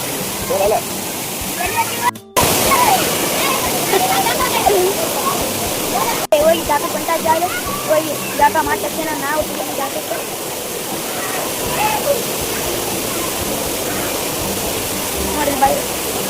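Kabbaragi Kapila waterfall roaring steadily nearby, a constant broad rush of falling water with people's voices talking intermittently over it.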